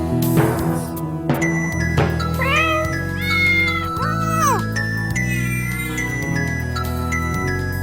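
A children's song in Catalan about five cats, sung with melodic meowing vocals over steady instrumental accompaniment; a voice imitates the cats' meows in sliding, repeated calls.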